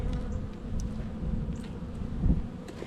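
Honey bees buzz steadily close by, a dense droning hum with wind rumbling at the microphone and a brief louder swell near the end.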